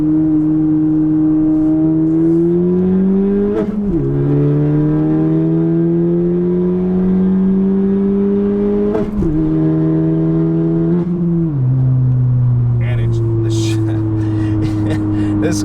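A car pulls hard through its gears with an Acuity Instruments short shifter fitted, engine tone climbing steadily and dropping briefly at each of several quick shifts, loud and close throughout.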